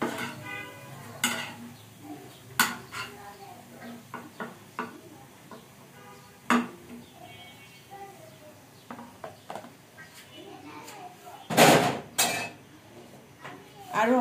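Slices of fried bread are lifted from the pan and dropped into a bowl, with scattered clinks and taps of a utensil against metal and dishes, plus one louder clatter partway through, close by.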